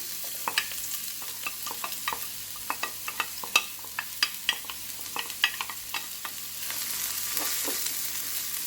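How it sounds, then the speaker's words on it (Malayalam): Chopped onions frying in hot coconut oil for a potato-brinjal roast, a steady sizzle under repeated sharp spoon scrapes and taps against the pan, close and fairly loud, with no talk. "വെളിച്ചെണ്ണ ചൂടായപ്പോൾ നമ്മൾ നേരത്തെ അരിഞ്ഞു വെച്ച സവാള ചേർക്കാം"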